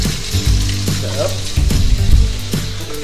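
Fish fries in a little cooking oil with a loud, close sizzle that stays steady, broken by occasional stirring or turning sounds.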